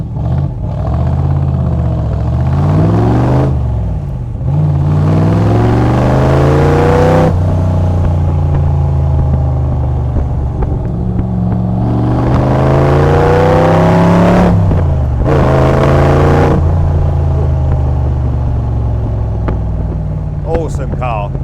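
A Unique Autocraft Python Cobra replica drives and accelerates, its engine rising and falling in pitch through repeated gear changes, loud and close, with someone talking over the engine note at times.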